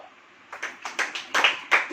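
A church congregation clapping hands: a handful of sharp, separate claps in loose rhythm, fairly close and moderately loud, with no talk over them.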